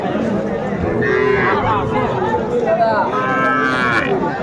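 Several cattle, young bulls and heifer calves, moo loudly and repeatedly at a livestock market, long drawn calls rising over a busy outdoor murmur of animals and people.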